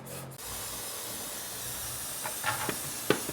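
Shoe paint sprays from an aerosol can onto a gourd in a steady, close hiss that runs almost the whole time, followed by a few faint clicks and knocks near the end.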